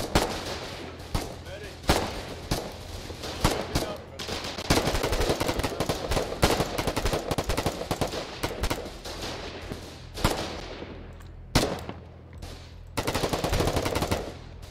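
Sustained machine gun fire from the video game Foxhole, loud rapid bursts with short pauses and heavier booming reports mixed in, continuing for most of the stretch.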